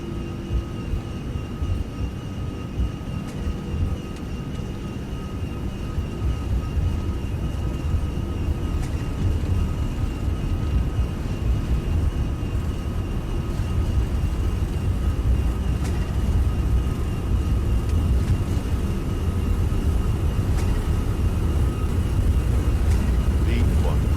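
An ToLiss A340-600 takes off in a flight simulator game, a low, steady engine roar that builds gradually and stays loud throughout, with a voice talking over it.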